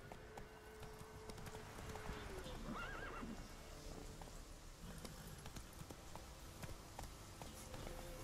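Roach the horse gallops with rhythmic hoofbeats and lets out a neigh in The Witcher 3, with faint game ambience and a voice urging it on underneath.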